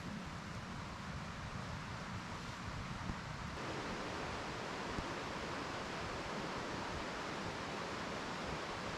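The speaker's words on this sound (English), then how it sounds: "listen to the river" River flowing near a snowy campsite in the White Mountains at night, a faint, steady wash of running water, continuous and distant-sounding, with no voices.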